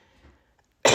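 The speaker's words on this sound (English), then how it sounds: "I can't kick this cough" A single sharp cough bursts out abruptly after near silence, loud and close, from a person struggling with a lingering cough.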